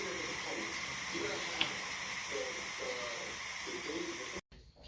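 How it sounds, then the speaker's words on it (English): A T-Fal 22-quart pressure canner processing brisket lets out a steady, loud hiss of steam that runs without a break for several seconds, then cuts off suddenly. "Get it going until we get a steady steam."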